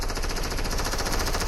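Rapid automatic gunfire in the video game Fortnite, a dense, loud, continuous stream of shots rattling evenly for the whole moment with no pauses.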